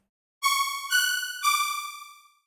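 A bright, bare default wavetable synthesizer melody with eight unison voices and no effects plays three sustained notes, rich in buzzy harmonics, the last one slowly fading out.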